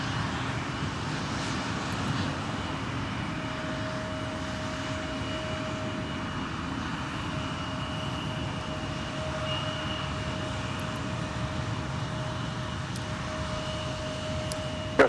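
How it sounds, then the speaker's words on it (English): An Airbus A220 jet airliner at Minneapolis–St. Paul Airport produces a steady broadband engine roar with a faint sustained whine, constant in level and moderately distant throughout, with no talking. "Look at that A220."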